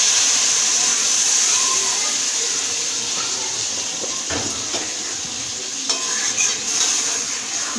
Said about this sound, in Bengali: হালকা হাতে এরকম নাড়তে হবে